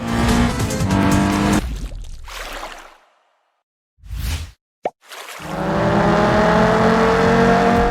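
Racing car engine revving and tires squealing in the Racing Master mobile video game. Loud bursts of roaring engine sound are broken by a near-silent gap with brief pops, then a sustained engine drone returns.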